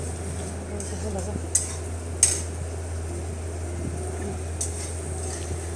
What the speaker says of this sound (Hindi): अब बस चलाते रहना है इसे हल्के हाथ से और वो भी लो फ्लेम पे।